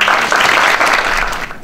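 Audience applause at a parliamentary seminar on design support policy for small businesses, a dense, steady clapping that fills the room for under two seconds.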